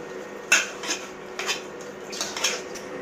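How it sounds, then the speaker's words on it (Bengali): Beef being stir-fried (kosha) in a pot, heard as a handful of scattered metallic clinks and scrapes of a utensil against cookware, close and moderately loud, with no talking. "ভালো করে কষাবো এই মাংসটা।"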